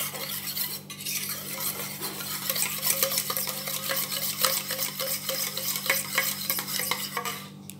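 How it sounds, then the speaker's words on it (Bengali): Beaten eggs with onion and chilli being stirred briskly in a bowl, a steady rapid scraping and clicking of utensil against the bowl, close and continuous with no talk. "দিয়ে আমি ডিমগুলোকে এর সঙ্গে ভালো করে মিশিয়ে নেব।"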